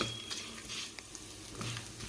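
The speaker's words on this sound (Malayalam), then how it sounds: "അപ്പോൾ നിങ്ങളൊരു 2 ചെറിയ ഉള്ളി മീഡിയം സൈസിലുള്ളത് ഒപ്പിട്ട് വറുത്ത് കൊടുക്കുക" Two small medium-sized onions fry in a pan for a home-style Kerala theeyal curry, with a soft steady sizzle, faint occasional stirring clinks, and no talk.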